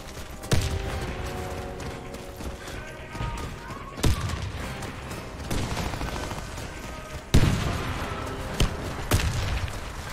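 Grenade explosions sound in a bomb-plant shooter game: several heavy booms land seconds apart amid scattered gunfire and mechanical clatter, with voices calling out in between.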